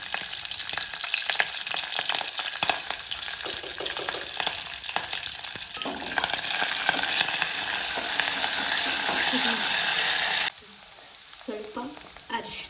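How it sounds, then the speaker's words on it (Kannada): Curry leaves and garlic frying in oil for moong dal sambar: a loud, dense sizzle with crackling and stirring that runs steadily, then drops to a quieter spatter near the end. "ಕರಿಬೇವು, ಚಟಾಪಟ ಆದಮೇಲೆ ಬೆಳ್ಳುಳ್ಳಿ ಸ್ವಲ್ಪ"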